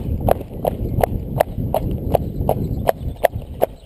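Steady horse hooves clip-clopping in an even rhythm, about two or three strikes per second, close by over a low rumbling background, from a ridden, wound-up horse.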